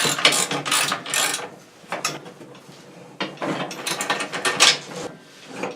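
A hand ratchet snugging bolts on a lawn mower deck during repair, repeated loud, close clicking pawl bursts in several runs separated by short pauses, with no talk.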